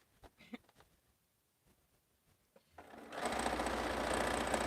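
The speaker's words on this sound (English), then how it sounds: "So I'm just going to sew some and show you." A sewing machine stitches quilt fabric pieces, starting after a few quiet seconds of faint handling noises and then running in a steady, fairly close mechanical whir to the end.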